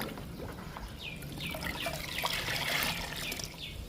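Lemon liquid being stirred together with jaggery, a soft wet trickling and sloshing of liquid close by, steady and low for a few seconds with no voices.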